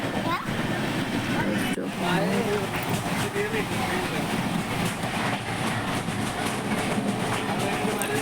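A train on the Konkan Railway running through a tunnel gives a loud, steady, enclosed roar and rumble that holds for the whole stretch, with faint voices underneath.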